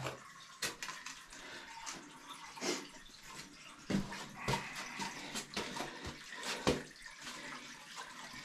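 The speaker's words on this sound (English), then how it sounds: "Try a little bit of water on it." Water is splashed and poured onto stone lettering in an underground chamber, faint trickles and scattered splashes coming in irregular bursts against a quiet background.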